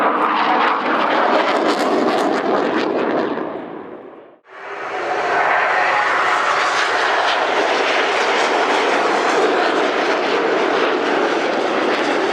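Display team jets take off at the Royal International Air Tattoo air show, a loud roaring rush that swells, briefly fades to a near-gap, then returns as a sustained broad thunder of engines passing and climbing away.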